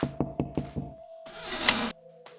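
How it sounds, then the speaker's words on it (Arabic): Four quick, firm knocks on a door, evenly spaced and close, followed by a burst of broad noise and then quieter tones. "عم مين هذا اللي عم دق الباب هلا؟"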